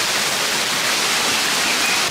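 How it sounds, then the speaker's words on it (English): Heavy rain pouring steadily on trees along a hiking trail near a waterfall, a dense, continuous hiss close around with no pauses. "The rain picked up again, so I'm hiding under some trees."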